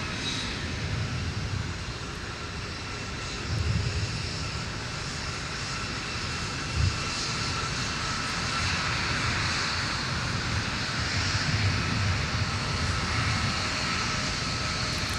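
Southwest jet airliner taking off from runway 17 at Minneapolis–St. Paul airport, a steady distant engine roar with a broad rushing hiss that holds fairly constant throughout.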